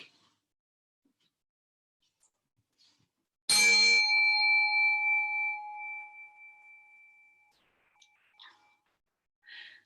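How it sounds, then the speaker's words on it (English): A single bell struck once in a kids' yoga class, a bright ring that sustains and slowly fades over several seconds, followed by faint soft sounds in an otherwise quiet room. "until you hear the sound of my bell"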